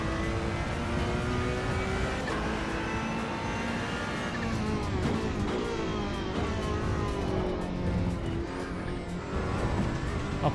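A Ferrari race car engine in the AC EVO racing sim, loud and close, holding a steady high drone with rising and falling revs as it upshifts under sustained acceleration, with no talk over it.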